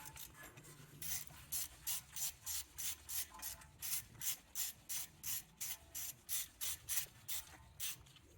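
A ratchet turns out a 5mm bolt holding the ABS wheel speed sensor on a 2006-2015 Audi Q7. A steady run of about fourteen crisp, close clicking strokes repeats evenly, with no talking.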